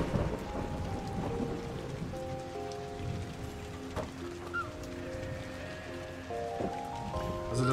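Rain patters steadily in the video game Kubifaktorium, a soft, constant hiss of drops with light game music tones running over it.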